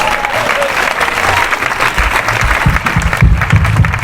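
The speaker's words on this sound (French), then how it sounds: "Acclamons ce Jésus-là." Church congregation in Yopougon breaking into sustained applause, a dense wash of clapping from many hands with crowd murmur mixed in, growing slightly stronger toward the end.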